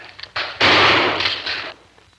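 A shotgun fired at a trap target, one loud close blast with a short decaying tail after a faint click, in an old television drama.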